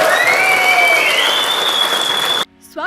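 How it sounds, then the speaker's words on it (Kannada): Loud, sustained audience applause fills a Kannada film event honoring Kashinath, dense clapping with rising whistles over it, cutting off abruptly near the end. "ಈ ಸಂದರ್ಭದಲ್ಲಿ ಕಾಶಿನಾಥ್ ಸರ್ ಒಂದು ದೊಡ್ಡ ಚಪ್ಪಾಳೆ"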